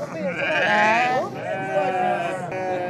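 Sheep bleat at a livestock market in Maarrat Misrin, northern Syria. Several loud, close, wavering bleats overlap, with voices in the background.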